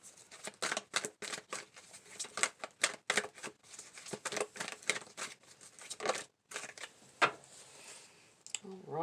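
Cards from an oracle deck being shuffled and drawn, with a run of quick papery flicks and snaps close by, steady and fairly quiet, broken by a brief pause before a few final slides.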